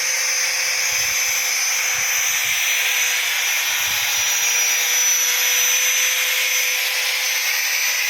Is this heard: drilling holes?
yes